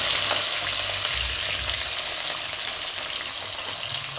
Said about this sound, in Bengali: ভেজে নেব লাল লাল করে করে